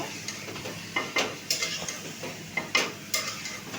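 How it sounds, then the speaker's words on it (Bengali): Spice-marinated chicken for biryani is stirred and fried in a pan, with a soft steady sizzle under repeated scraping and clinking of a utensil against the metal. "এখন আমি এটা ভালো করে কষিয়ে নিচ্ছি, বিরিয়ানির মাংস।"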